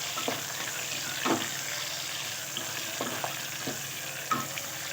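Onions sauté in a pan for Maharashtrian masale bhaat, a steady low sizzle broken by occasional soft spatula scrapes and taps, close and fairly quiet.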